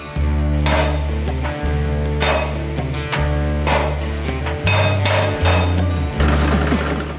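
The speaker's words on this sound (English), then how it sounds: "I'm going to go along and punch all these points so it'll make it easier to start the drill off" A hammer strikes a center punch on metal points in a workshop building Panzer I tank tracks: a series of sharp metallic clinks and taps at irregular intervals over a steady low machine hum.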